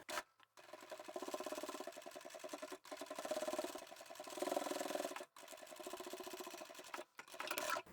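A sewing machine runs in steady, rapid stitching bursts along the folded edge of a towel, pausing briefly a few times between runs; quiet and close.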